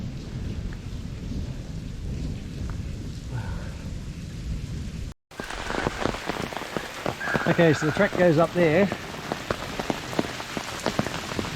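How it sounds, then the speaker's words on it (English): Heavy rain pours onto a bush walking track in the Blue Mountains near Goochs Crater, a dense steady hiss with rumbling thunder, and a hiker talks briefly over the downpour midway. "it's just started to rain heavily"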